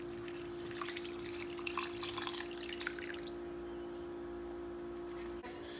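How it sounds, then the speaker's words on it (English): Sauce mixture poured over chicken, vegetables and beans in a crock pot, making a close liquid splashing and trickling for about three seconds over a steady hum, then fading to quiet with a brief clink near the end. "now we're going to pour this mixture over our stuff, over our chicken and our veggies and beans"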